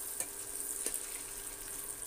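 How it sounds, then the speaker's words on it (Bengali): Egg and chili frying in hot oil, a steady soft sizzle throughout with a couple of faint clicks, no voices. "ডিমটা আমি ভালোভাবে ভেজে নেব, সাথে মরিচটাও ভাজা হয়ে যাবে"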